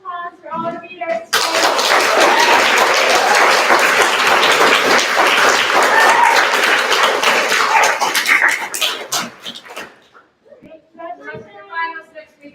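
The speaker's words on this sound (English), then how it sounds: "Another round of applause for all the readers." Audience at a BFA reading series in Prout Chapel bursts into loud, sustained clapping for the readers, lasting several seconds before fading, with a voice speaking before and after.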